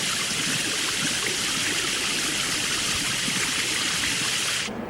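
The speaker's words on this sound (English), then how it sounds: "get in that shower and wash" Shower running water in a prison cell block, a steady, even hiss of spray that holds at full strength and then cuts off abruptly at the end.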